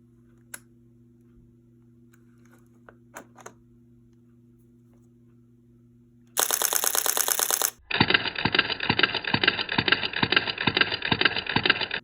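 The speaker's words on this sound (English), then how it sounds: "people really like machine gun mode on this camera" A DSLR-style camera firing its shutter in continuous burst mode: a few isolated clicks, then a rapid, loud machine-gun rattle of shutter actuations that changes pitch and continues steadily to the end, close up with no talk.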